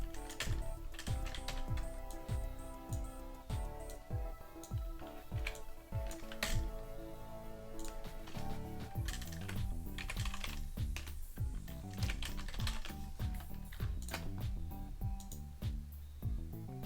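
Fingers tap out quick bursts on a computer keyboard, close and fairly quiet, with irregular clusters of sharp key clicks and brief pauses between runs, alone with no speech.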